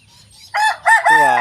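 A rooster of a young new flock crows close by, one loud strained crow rising and holding, preceded by faint clucking and other fowl sounds.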